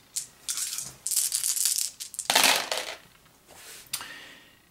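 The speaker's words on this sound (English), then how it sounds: "So I roll my 6 dice." Six dice rattle and clatter onto a hard surface in a tabletop dice game, a quick series of bright, close clicks and tumbling knocks lasting a few seconds, with no talk.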